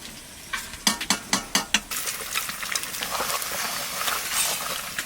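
Mutton pieces drop into a hot pan for kala bhuna, setting off a run of quick sharp clacks and scrapes, then a rising sizzle and frying crackle with stirring sounds close by.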